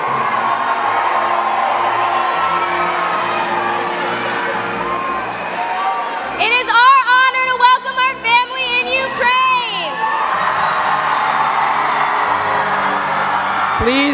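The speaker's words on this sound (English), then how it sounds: "Join us in cheering for Turkey." A large crowd at the BBYO 2018 opening ceremony cheers for the Turkey delegation, with loud whoops, yells and shrill shouting rising in a burst over steady crowd noise while an announcer's voice carries on through the hall.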